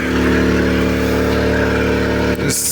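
A portable generator running steadily at high revs, a loud, constant engine drone throughout that dips briefly near the end, heard close up with no talking.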